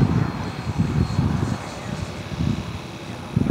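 A large HSDJETS HME-262 twin EDF90mm electric model jet making a half-throttle pass, a rushing ducted-fan roar that swells and ebbs with a low rumbling texture, fairly loud and without talk.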